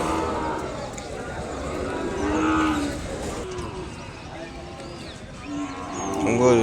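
Cattle at the Kodada weekly livestock market moo in several drawn-out calls, some close and loud, others farther off, over a constant busy market din.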